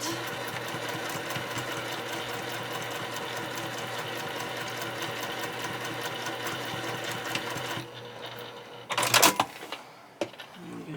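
A sewing machine stitches a 1/4 inch fabric seam at a 2.5 mm stitch length on a handmade project bag, a fast steady close whirring rattle for about eight seconds, then stopping, followed by a few brief clicks and handling noises.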